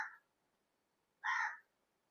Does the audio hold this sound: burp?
no